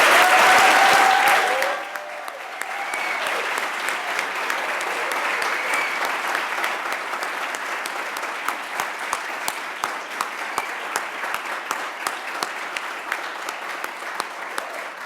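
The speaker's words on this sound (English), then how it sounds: "I'd really like everyone to join me in just giving a tremendous round of applause for all of our honorees." Sustained round of applause from the audience at an engineering awards ceremony, starting loud and full then settling into a steady, moderately dense clapping that carries on to the end.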